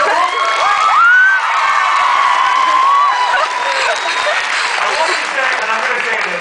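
An audience at a book talk applauds and cheers, sustained clapping with whoops and excited shouts rising over the crowd, loud and full throughout.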